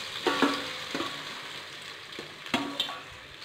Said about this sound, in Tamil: சோம்பு பொரிஞ்சிருச்சு. இந்த வாழைக்காயெல்லாம் இதில் கொட்டிடுவோம்.